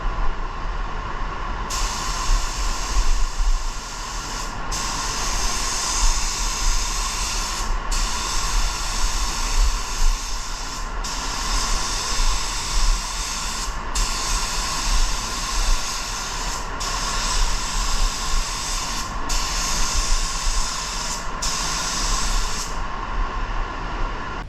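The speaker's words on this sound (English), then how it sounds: "Let's spray." A spray gun hisses in long steady passes applying candy paint, cutting off briefly between strokes, with a low hum beneath.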